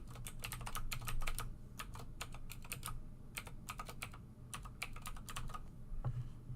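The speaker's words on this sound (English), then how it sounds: "we're going to make sure that our password is typed in properly this time" A password is typed on a computer keyboard in quick bursts of crisp, close key clicks separated by short pauses, steady and clear with no voices.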